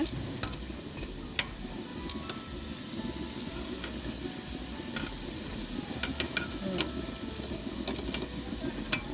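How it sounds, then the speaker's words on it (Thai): Spiral sausages fry in hot oil with a continuous close sizzle, and small pops and crackles break through the steady hiss. "ทอดไปเรื่อยๆค่ะ จะสวยแล้ว จะกรอบแล้วทุกคน"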